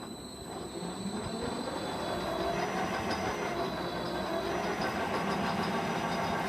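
Lathe with a face plate mounted, spinning up in gear and running steadily, a continuous near mechanical whir with dense rumbling texture that builds over the first second and then holds at an even level, with no talking.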